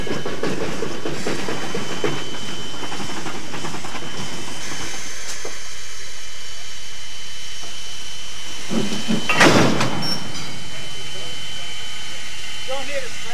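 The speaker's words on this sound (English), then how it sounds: "To the uninitiated, the Climax is a strange-looking contraption, almost like a cartoon locomotive." A Climax geared steam locomotive running, with continuous hissing steam and rail rumble, a sharp louder burst near the end, and someone talking over it.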